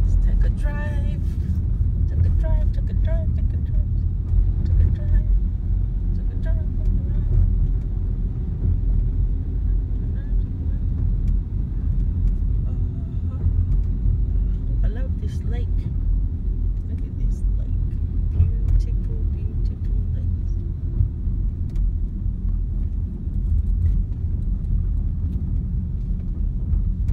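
A car drives slowly through a residential subdivision in Katy, Texas, a steady low engine and road rumble filling the cabin throughout while a person talks over it.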